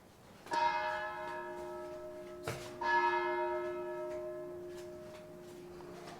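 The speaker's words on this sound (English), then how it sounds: "that's the half hour, 2 bells." A church bell strikes twice for the half hour, two clear ringing strokes about two seconds apart, each leaving a long, slowly fading hum in a quiet room.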